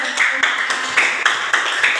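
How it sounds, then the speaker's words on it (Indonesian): A crowd claps steadily for about two seconds, dense, even applause with a few sharper peaks, moderately loud. "tepuk tangan Dirancitatos."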